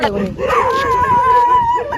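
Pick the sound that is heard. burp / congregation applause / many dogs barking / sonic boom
many dogs barking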